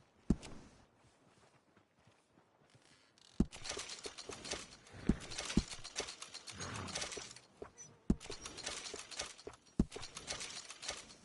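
Horse hooves clip-clop in Red Dead Redemption 2, a quiet stretch followed by a steady run of close, rhythmic hoofbeats with occasional sharper knocks and tack rattle, with no talking.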